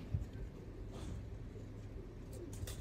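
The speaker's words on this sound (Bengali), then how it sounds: "বন্ধ লেজের কবুতর।" A caged pigeon coos faintly against a low, steady ambient hum, with a few soft chirps near the end.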